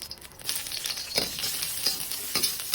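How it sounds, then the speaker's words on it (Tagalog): Ginger and onion sauté in oil and a little chicken fat, giving a soft, continuous sizzle with brief stirring scrapes heard up close. "igisa-gisa lang natin ang luya, sibuyas"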